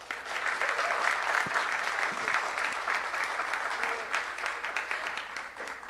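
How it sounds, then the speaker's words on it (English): A live audience at an on-stage interview event claps together in sustained, dense applause that stays loud and even throughout and does not fade, with no talking over it. "So how about we put our hands together and show her some love."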